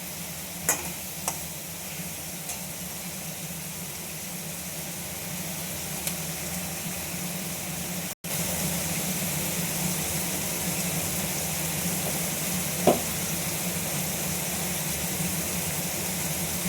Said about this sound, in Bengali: একটু ভালো করে লাল লাল করে একটু ভেজে নেব পেঁয়াজটা চিংড়ি মাছের সাথে